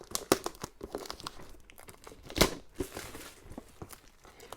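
Plastic shrink-wrap being crinkled and torn off a Company of Heroes game box, a close run of crackling rustles with one sharper rip partway through.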